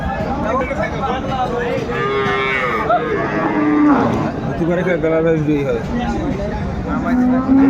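Cows and calves mooing at a livestock market (haat) in Aftabganj, with several long, drawn-out calls close by over a constant background of crowd chatter and voices.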